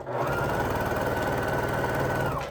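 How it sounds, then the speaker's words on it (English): A sewing machine stitching light and dark quilt squares together, a fast continuous mechanical whirr-rattle running steadily for over two seconds, loud and close, with no voices. "I'm just sewing them."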